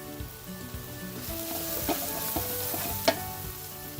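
Ground spice powder and cumin frying in a pan for an Erode Pallipalayam-style beef biryani, a steady low crackle with a few sharp clicks of stirring.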